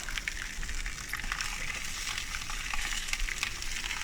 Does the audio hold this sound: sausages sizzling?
yes